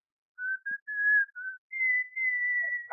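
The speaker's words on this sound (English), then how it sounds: "Now, whistle." A man whistles a short series of clear, high notes in a radio drama, broken phrases first, then longer sustained tones, alone and close.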